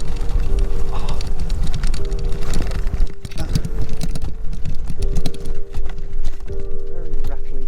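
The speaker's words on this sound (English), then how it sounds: "Why is this rattling?" A homemade no-weld trike rattles continuously as it drives over rough offroad ground, a loud, dense clatter with engine drone underneath and someone talking over it.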